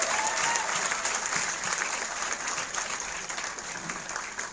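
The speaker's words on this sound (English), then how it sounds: "a big round of applause" A seated audience at an innovation cell career session gives a continuous round of applause, moderately loud, with a crowd murmur beneath the clapping that eases slightly near the close.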